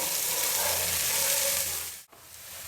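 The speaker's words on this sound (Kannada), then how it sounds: "ಕ್ಯಾರೆಟ್ ಬೀನ್ಸ್ ಗೆಡ್ಡೆ ಕೋಸು ಸಾಕಷ್ಟು ಫ್ರೈ ಆಗಿದೆ" Carrot, beans, potato and cabbage fry in a pan with a loud, steady sizzle that dips briefly near the end, with no voices.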